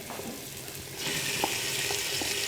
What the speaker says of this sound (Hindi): और इसे थोड़ी देर फ्राई करें।